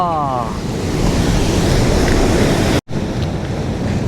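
Sea waves break on the shore during a seafood-gathering outing, a loud steady wash of surf and wind that fills the whole stretch, with one very brief dropout near the end.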